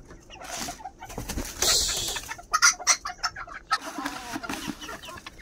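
Several bantam chickens cluck and chatter in irregular bursts, some close and sharp, others softer in the background, with no speech.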